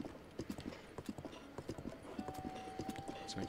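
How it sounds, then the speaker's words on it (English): Horse hooves clip-clop at a steady trotting rhythm in the Breath of the Wild video game, a close, even stream of hollow hoofbeats with a soft tone sustained in the background. "what horse doesn't like deserts?"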